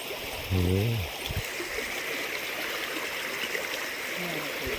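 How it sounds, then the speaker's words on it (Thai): Water runs steadily down a channel from an opened spring outlet in Sakon Nakhon, Thailand, a constant close gurgling stream sound with a brief low voice near the start. "น้ำไหลตลอดเลย"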